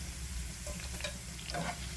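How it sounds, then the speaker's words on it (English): Continuous close sizzling of jalapenos frying in hot oil, with faint stirring scrapes, no voices. "add in the jalapenos. And let those start frying up"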